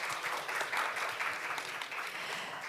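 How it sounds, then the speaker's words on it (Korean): At a Jeju international environmental forum, an audience gives presenters and panelists a round of applause, a dense, even patter of many hands clapping, moderately quiet and sustained throughout. "오늘 함께해 주신 발표자 그리고 토론자분들을 위해서 다시 한번 큰 박수 부탁드립니다"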